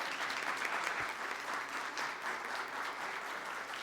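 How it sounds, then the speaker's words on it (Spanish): An audience at an afternoon event for entrepreneurs and social enterprises applauds steadily, a dense wash of clapping at an even level from start to end with no voices over it. "Un fuerte aplauso para ellos, por favor."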